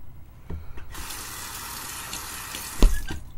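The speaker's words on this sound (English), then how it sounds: "So I'm gonna add a tiny bit of water." Tap water running briefly into a sink while a shaving brush lather is worked up, a short close gush with a clunk near the end and no talk.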